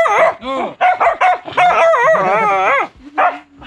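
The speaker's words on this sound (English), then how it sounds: "Got the guard dogs." Guard dogs bark and yip in quick repeated bursts, close and loud, at a place set on top of limestone cliffs.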